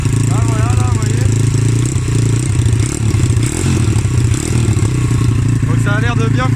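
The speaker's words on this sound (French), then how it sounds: "La petite moto est démarrée." A small dirt bike engine runs steadily nearby with a rattling putter after a throttle replacement, while a person talks over it.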